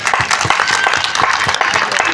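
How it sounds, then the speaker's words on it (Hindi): A crowd applauding steadily at a Holi community gathering of a Brahmin society, a dense wash of many hands clapping at close range, loud and continuous throughout. "जोरदार तालियां बजाएं।"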